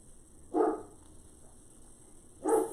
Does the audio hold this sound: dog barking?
yes